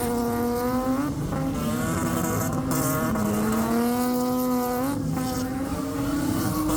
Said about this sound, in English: Do you hear Nathan's car? He keeps the diff keeps opening. That's why it sounds like it's dying.